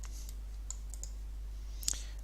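A computer mouse clicks softly a few times during SketchUp modelling work, ending in a quick double click over a low, steady background hum.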